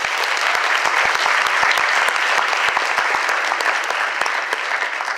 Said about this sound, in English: So a round of applause for our Board of Governors